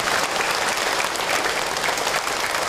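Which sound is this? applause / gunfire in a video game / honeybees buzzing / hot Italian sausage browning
applause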